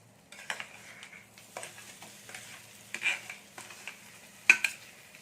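Boiled mashed potato stirred into dal and curry leaves frying in a pan, with soft scraping strokes of a spoon and a light sizzle, quiet and close, several sharper clinks of utensil against pan.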